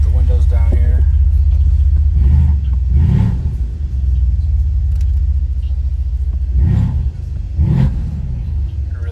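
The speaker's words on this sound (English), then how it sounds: "You can really hear those turbos spool." A 2016 Mercedes-Benz SL550 Mille Miglia 417 Edition's turbocharged engine heard from inside with the windows down, a loud steady low rumble that swells in a few brief revving surges as the turbos spool.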